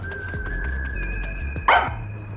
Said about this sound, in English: Doggo's here.